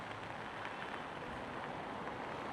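Steady, dense rain pours during the rainy season on a beach in Da Nang, a continuous loud hiss with a faint wind rumble underneath and no voices.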